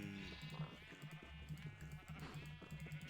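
Multicoloured sheep bleat repeatedly in a farming video game, their wavering calls overlapping in quick succession at moderate volume with little else around.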